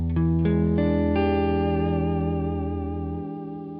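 Electric guitar strumming a dominant seventh sharp nine chord with effects and chorus, a few struck attacks ringing out into a long sustained, slowly fading chord, played alone and close.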